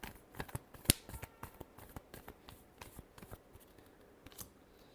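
Tarot cards are shuffled by hand, a quick series of close, crisp riffling snaps and slides with one sharper slap near the start, then lighter flicks tapering off.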